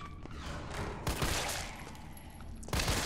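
Gunfire from the Resident Evil 3 video game: loud, rapid bursts of shots with heavy booming impacts, a sustained volley broken by sharp fresh bursts at about one second and again near the end.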